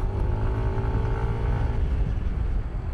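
A Yamaha NMAX Tech Max scooter cruising on an uneven road during a touring ride, its engine and drivetrain giving a continuous low droning hum under loud rushing wind, steady and close to the rider, with no talk.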